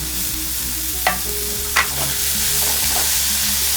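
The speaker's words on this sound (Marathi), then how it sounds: "हे सगळं बटरमध्ये परतून घ्यायचं।" Carrot, onion, capsicum, tomato and paneer sauté in butter with a loud, continuous sizzle, broken by a couple of sharp scrapes of a spoon stirring the pan, close and with no voices.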